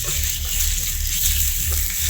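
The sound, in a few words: pork liver briefly pan-frying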